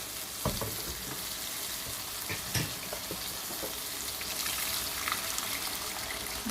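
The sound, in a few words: water poured into sizzling chana masala gravy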